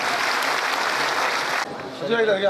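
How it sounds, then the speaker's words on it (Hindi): Applause from an assembly of party office-bearers, a loud continuous burst of clapping that cuts off abruptly partway through, followed by someone speaking. "जोरदार तालियों से इस्तकबाल कीजिएगा"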